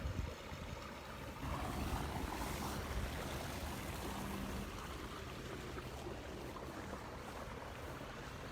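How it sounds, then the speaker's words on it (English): Water runs in a garden stream, a soft, continuous rushing and burbling heard alone at low, even volume. "You see the water running, not frozen at all anymore."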